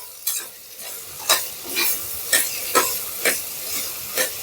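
Turmeric and coriander-cumin powder sizzle in hot oil in a pan while a spoon stirs them in quick, regular scraping strokes, about eight sharp swishes over a soft steady fry, close and moderately loud.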